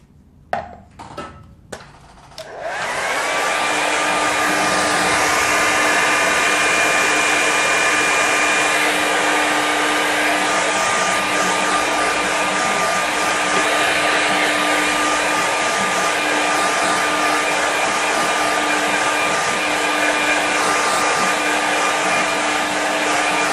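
After a few soft knocks, a hair dryer switches on and blows continuously to dry a watercolour painting, a steady loud whooshing whir with a faint tonal hum, close and alone.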